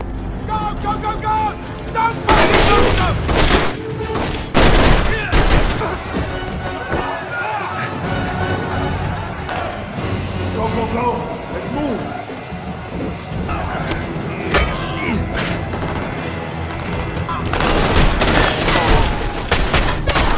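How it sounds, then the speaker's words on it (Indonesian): Gunfire in a prison escape film scene, with bursts of rapid shots and booms over dramatic music, bursts recurring through the clip amid action noise. "saat mereka hampir saja lolos, Sodik tertembak di bagian perutnya"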